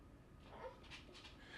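A dog whimpers and gives soft yips and barks indoors, faint and a little distant, with broken bursts of whining over a quiet background.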